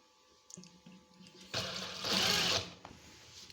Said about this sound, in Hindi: कॉलर के बिल्कुल नज़दीक नज़दीक सिलाई लगानी है